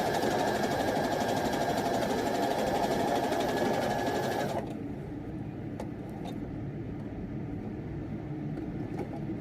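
A sewing machine stitches a seam on jeans fabric, running loud and fast with a steady rapid whir for about half the time, then stopping, leaving quieter handling noises and faint clicks.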